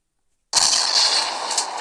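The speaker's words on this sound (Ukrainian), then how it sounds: "Ну, зараз я буду стріляти." A WW2-era tank cannon fires in the Roblox game WW2 Tank Simulator, one loud blast bursting out of silence and trailing into a sustained roaring rumble.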